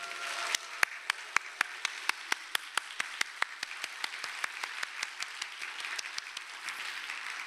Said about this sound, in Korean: 격려의 큰 박수와 환호로 화답하도록 하겠습니다